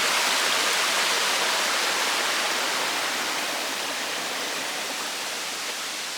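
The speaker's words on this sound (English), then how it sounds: "That's the waterfall." Steady, roaring rush of falling water at Turure Watersteps (Cumaca Falls), Trinidad, a dense broadband hiss that stays constant throughout with no voices over it.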